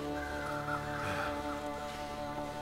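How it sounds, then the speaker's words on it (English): Crows cawing in the frozen survival game The Long Dark, a few hoarse caws at mid distance over a steady humming game ambience, nobody speaking. "Crows circling. A murder of crows."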